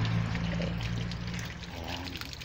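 Water trickles and pours steadily in a garden, a close, continuous liquid splashing that eases slightly toward the end, with no voices.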